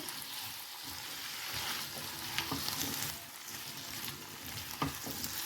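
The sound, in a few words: potatoes and ginger paste frying in a pan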